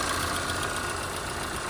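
Car engine idling at a steady, even pace, close up and fairly quiet, with no voices.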